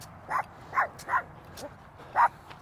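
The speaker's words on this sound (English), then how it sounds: "Oh, you got a ferocious dog." A dog gives four short, sharp barks, spaced unevenly and fairly close, against a quiet outdoor background.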